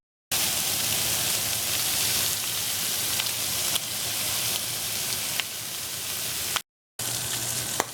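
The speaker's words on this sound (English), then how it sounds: "we are just going to go ahead and stir the meat into the veggies." Meat sizzling loudly in a pot as it is stirred into vegetables for garbanzo bean soup, a dense, continuous frying hiss with occasional utensil clicks, broken by two brief silences.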